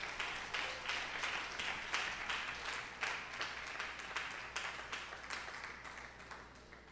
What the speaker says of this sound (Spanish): Dele un aplauso a Cristo,